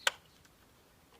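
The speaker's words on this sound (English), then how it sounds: "When refitting these hoses, you want to make sure that they click into place so they don't leak" A single sharp click as a fuel hose snaps onto the filter of a 2007 Mini R56 diesel, one brief close snap followed by quiet, with a couple of faint ticks afterwards.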